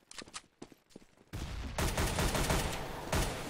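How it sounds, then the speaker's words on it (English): Gunfire in a Counter-Strike match, starting with a few sharp, separate shots and then breaking into a loud, continuous burst of rapid fire. "It's going to be a shot from Blade to take down Zeus."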